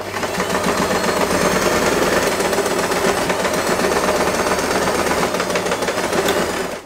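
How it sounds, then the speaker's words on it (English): A sewing machine stitches a fabric-covered headband with a sponge or felt lining, a steady loud mechanical whirring and rapid needle chatter running continuously, close up with no voice. "I sew it all together."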